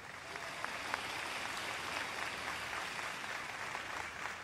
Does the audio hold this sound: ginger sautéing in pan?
no